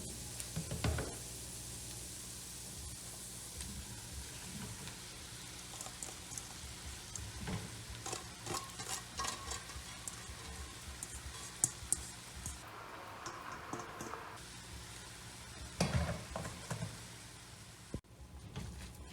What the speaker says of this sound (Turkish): Şimdi artık ıspanaklarım pişene kadar kavuracağım.